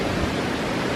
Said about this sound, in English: There you go, the highest waterfall in Switzerland.